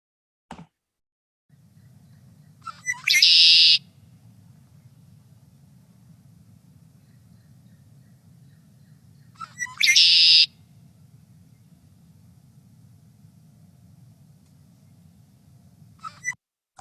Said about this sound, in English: This is a red-winged blackbird, a bird that you can spot in just about any lake or reservoir around San Diego.